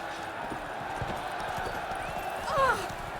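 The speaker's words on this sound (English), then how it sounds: "Guess I better get off my horse." Horse hooves clopping in The Witcher 3: Blood and Wine, a steady, fairly soft patter running under game ambience, with a short higher-pitched voiced sound near the end.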